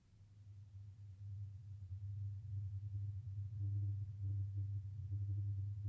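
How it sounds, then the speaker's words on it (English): A faint, steady low-frequency hum drones on without a break, swelling slightly at the start and then holding level, with no other sounds. "The most commonly reported noise is a low-frequency hum that persists in the area."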